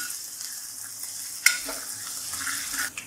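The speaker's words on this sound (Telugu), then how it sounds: "శనగ పలుకులు కూడా బాగా ఆయిల్లో వేయించుకోవాలి" Peanuts frying in oil for mango rice give a soft, steady sizzle with a few sharper crackles and a stirring scrape partway through, close and fairly quiet, with no talking.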